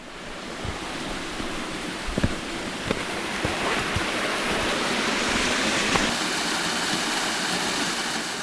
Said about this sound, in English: And there's a nice bit of waterfall that Edwin built.